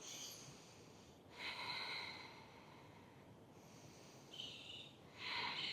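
Deep breaths taken during a yoga lunge pose come as quiet, drawn-out breathy swells, a few long inhales and exhales heard close and faint with no speech.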